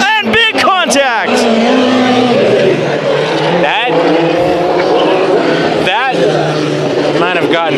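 USAC Honda Western Midget race cars in a heat race at Bakersfield Speedway tangle in a multi-car crash, with sharp impacts and tire skids at the start over loud engine roar, as a race announcer talks over it.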